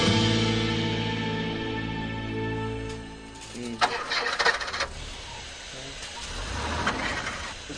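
A car engine starting in a Tajik drama scene: a steady droning tone gives way to rough, sputtering bursts of engine noise that rise and fade, with background sound and possible voices around it.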